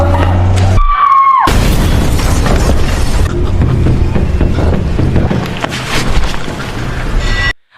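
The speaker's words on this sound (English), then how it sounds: "After a 10-kilogram carbide explosion" A ten-kilogram carbide explosion in a horror film goes off as a sudden loud boom, then shattering debris and a sustained roaring rumble that runs for several seconds before cutting off abruptly.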